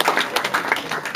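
Brief burst of audience applause at a Balinese bondres comedy show, a short, quick patter of hands clapping close by.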